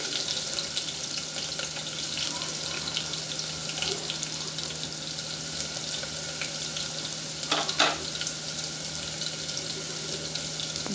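Onions sizzling in hot oil with browned green chillies for a vegetable biryani, a dense continuous frying hiss close up with a brief clatter near the end, no talking.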